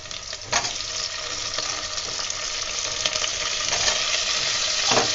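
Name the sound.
tomatoes added to sizzling onions frying in pan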